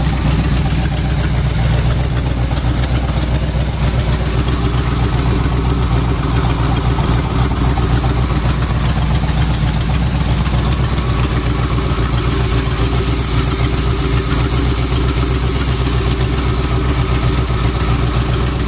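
A Mopar big block twin-turbo engine idles steadily, a continuous loud low rumble running alone without a break for the whole stretch.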